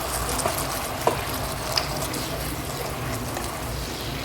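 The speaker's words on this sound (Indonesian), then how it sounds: "Ini kita aduk-aduk. Matang ya teman-teman. Dan ini berhasil untuk menumis." Food is stir-fried in a Kadonio multipurpose pot with a steady, even sizzle and a few faint clicks of stirring.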